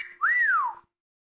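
A person imitates a wolf whistle: a single clear rising-then-falling whistled note of under a second, close and loud, then silence.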